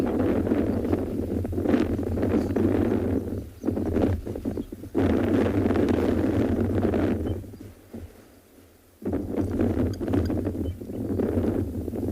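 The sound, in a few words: wind picking up outdoors on safari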